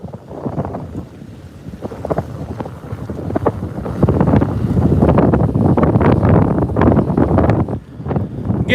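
Strong wind gusts roar across the microphone on Copano Bay in Bayside, Texas, blustering steadily with choppy water and waves, swelling louder midway and staying loud to the end, with no talking.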